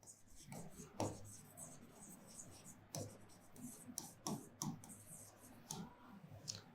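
Chalk or marker tapping and scraping on a classroom board during a physics lecture, faint irregular strokes and clicks spread through the stretch, with low room noise and hints of speech.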